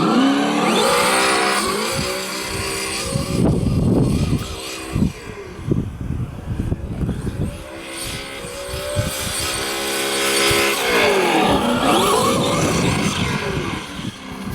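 A Traxxas Slash 4x4 RC car with an LCG chassis brace and Badlands tires runs on grass, its electric motor whining up and down in repeated bursts of acceleration, close and fairly loud.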